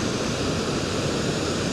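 Kuntala waterfall in Telangana pours in a continuous, loud, even roar of falling water, broadband and unbroken, with no voices.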